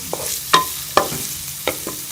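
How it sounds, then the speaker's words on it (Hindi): Onions frying in a pan for chana samosa filling, a low sizzle under a few sharp spoon clinks and scrapes against the pan. "फ्राई कर लेंगे। प्याज का कलर बस हमने हल्का सा चेंज करना है।"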